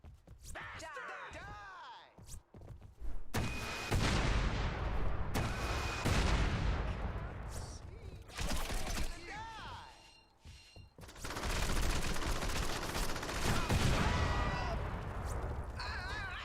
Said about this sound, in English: this is now a missile launcher